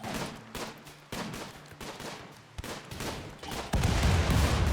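Gunfire in the RimWorld video game as colonists shoot at turrets: bursts of rapid, punchy shots in uneven volleys, loud and close, ending in dense sustained fire.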